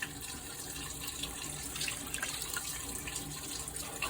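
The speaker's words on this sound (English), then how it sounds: "I'm going to add some more water into here" Water pours steadily into a cooking pot of cubed steak and gravy in a faint, continuous splashing stream, with no voices.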